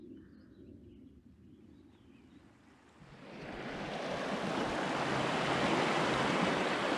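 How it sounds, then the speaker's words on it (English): A creek near Silverjack Reservoir flows with a soft, broad rush of water that swells from quiet to a louder, steady wash after a few seconds, with faint birds in the background. "we upgraded to a spot on the creek"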